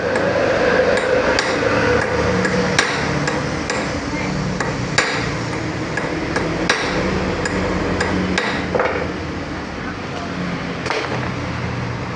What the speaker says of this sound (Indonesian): Oke, kita buka dulu murnya dengan cara dipalu seperti ini.